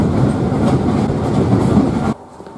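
A train runs on the narrow-gauge Bala railway in North Wales with a loud, steady rumble and clatter heard close up. The noise then cuts off abruptly, leaving quiet background.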